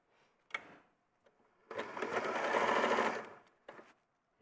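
A sewing machine stitches a quarter-inch seam on a quilt block, running steadily for about a second and a half after a couple of short clicks, fairly quiet and with no talk over it.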